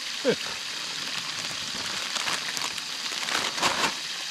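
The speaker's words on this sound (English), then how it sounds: "If you can hear me over the sizzling." A faint, steady sizzle of nachos cooking at a campsite fills the background, with soft crackles and a few brief louder pops.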